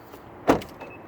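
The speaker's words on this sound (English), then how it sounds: "All the doors unlock." A 2017 Mazda 3 sedan's power door locks unlock with a single brief mechanical clunk, close and moderately loud, followed by a faint short beep in a quiet interior.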